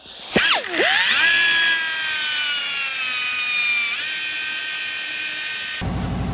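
A high-pitched power tool whines up sharply, then grinds steadily as it cuts, its pitch dipping and settling before a brief rattling at the end.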